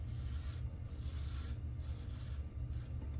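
Vintage Schick Eversharp razor shaving, a steady soft scraping rasp of blade across stubble with brief pauses between strokes, close and quiet with no talk.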